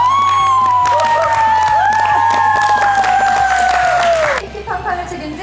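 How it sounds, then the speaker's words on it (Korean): A small audience claps and cheers while introductions are made for an entertainment show's interview segment, with a sustained sound effect tone and voices over the clapping before it drops away. "박수!"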